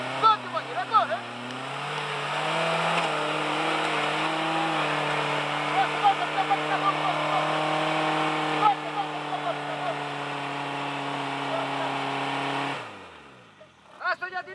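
A car engine drones steadily at close range while driving, with a sustained hum that shifts pitch as it accelerates and eases, and excited shouting voices over it before the engine fades out.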